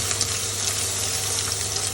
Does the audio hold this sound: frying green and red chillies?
yes